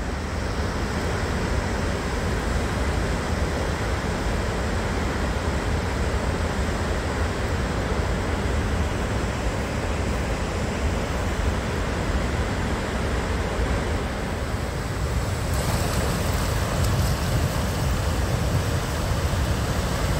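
Chippewa Creek runs high with spring water, a dense, continuous roar of rushing water heard steadily and up close throughout, with no voices.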